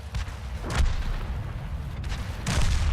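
Tank guns fire in World of Tanks during a battle involving an M3 Lee and a TOG. Two heavy booming shots about a second and a half apart sit over a low rumbling background, with no voices.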